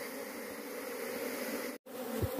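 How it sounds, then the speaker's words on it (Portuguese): Dense, steady buzzing of many bees swarming around a hive box during a colony capture, close and loud throughout, cut by a brief dropout near the end. "Então entrando pra entrar a caixa, viu? Daqui a pouco tem muita abelha dentro."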